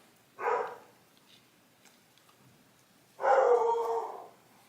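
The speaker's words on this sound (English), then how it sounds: "Let me go see what my dog's barking at." A pet dog barks twice at a distance, a short bark followed a few seconds later by a longer one, with quiet room noise in between.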